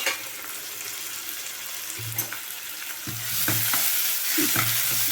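Green chillies being stirred in a hot frying pan with oil, a steady sizzle under clanking scrapes of the spatula that grow louder and more frequent toward the end, with no talk.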